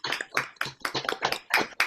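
Online session participants clap for five presenters, a few sparse, distinct claps in an irregular rhythm, close and fairly quiet, with no talking.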